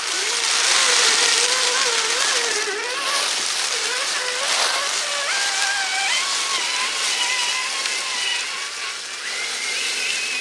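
A Traxxas TRX4 Ford RC truck drives along a trail near a dam, its electric motor whining steadily and rising and falling in pitch as it accelerates and slows, close and fairly loud.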